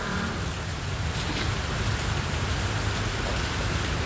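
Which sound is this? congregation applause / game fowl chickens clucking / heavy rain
heavy rain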